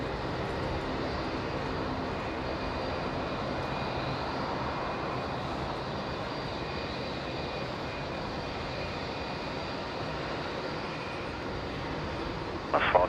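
A Qantas airliner takes off from runway 19 left at Brisbane International, a broad steady engine roar holding for many seconds at moderate distance, with a brief louder burst near the end.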